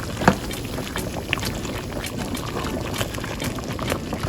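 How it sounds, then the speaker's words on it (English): Smothered fried chicken simmers on low heat in gravy, a soft, continuous bubbling with small pops and a faint clink near the start, heard close with no talking. "Let's get all these submerged in the gravy. Turn it all the way down. Now you just want this to simmer."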